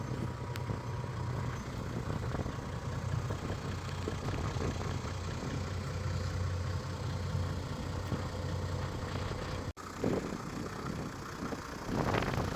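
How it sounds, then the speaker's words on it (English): Steady low diesel drone from the exhaust of a 2006 Toyota Land Cruiser 100 series 60th anniversary edition with the 4.2 diesel engine, idling quietly and evenly, with a brief dip and a slight rise near the end. "It's got the standard diesel noises, but nothing compared to many cars I've heard before"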